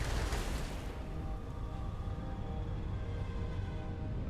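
A loud burst opens as an enemy spaceship blows apart in Starfield space combat, the blast fading within a second into a steady rumbling drone of engines and background music.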